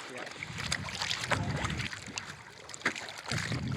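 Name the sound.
electric hydrofoil board motoring across water at full throttle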